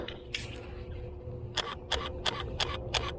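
A Canon 10D DSLR fires a burst at maximum continuous drive, a rapid series of crisp, close mechanical shutter clicks in quick succession after a moment of quiet room tone.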